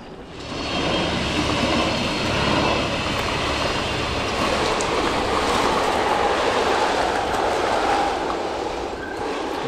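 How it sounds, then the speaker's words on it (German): A train on the Bremerhaven to Buxtehude railway line passes nearby along a rural path, a steady, loud broadband rumble and rush that holds throughout without a clear fade. "das war die Bahn von Bremerhaven nach Buxtehude"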